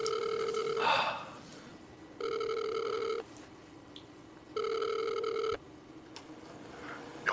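An office telephone rings with a classic electronic trill, three evenly spaced bursts of about one second each separated by quiet gaps, fairly close and clear over low room hum.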